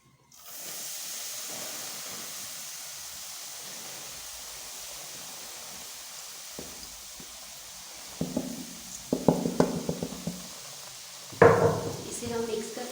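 Gram flour tipped into hot ghee in a kadhai gives a steady close hiss, then louder bursts of sizzling with several sharp knocks and scrapes of a spoon against the pan; no voices.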